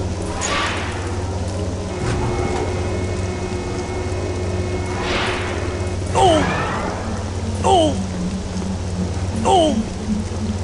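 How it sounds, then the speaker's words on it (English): Steady rain in Star Wars Jedi Knight: Jedi Academy on Vjun outside Bast Castle, a constant wash of falling water with low rumble underneath and a few brief whooshing effects over it. "it's good to get out of that rain"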